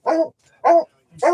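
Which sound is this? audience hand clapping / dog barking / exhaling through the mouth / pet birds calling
dog barking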